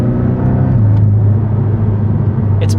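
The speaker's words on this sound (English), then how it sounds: "And then the burble between shifts." Porsche 718 Cayman with PDK gearbox, a 2019 model, heard from inside as a low, steady bassy engine drone and exhaust rumble holding level between shifts, with a faint click near the end.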